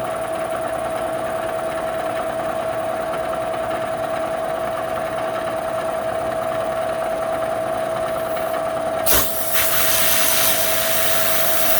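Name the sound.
Bridgeport milling machine making a light cut at 1,000 RPM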